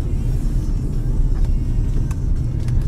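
A Lada Granta with an automatic transmission drives on a snowy, unplowed winter road, heard from inside as a steady low engine and road rumble with faint occasional ticks and no talking.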